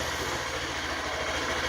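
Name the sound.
Honda Grom motorcycle engine idling in neutral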